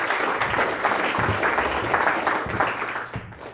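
A live audience at a hypnosis demonstration in Atlanta claps for the volunteers, producing a dense, continuous round of applause that fades out at the end.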